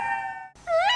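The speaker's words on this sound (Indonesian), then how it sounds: "Cakal juga bisa melolong, seperti halnya serigala." A jackal gives a short, thin howl: a steady high tone fades out, then after a brief gap a rising, wavering cry follows, close and fairly loud.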